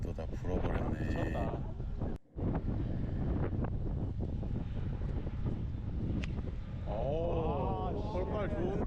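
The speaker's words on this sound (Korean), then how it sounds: "바람이 또 다 불어버렸네" Strong gusting wind buffets the microphone on a golf course during a stormy end-of-season round at Club 72 Sky Course, a steady roar throughout with people talking over it.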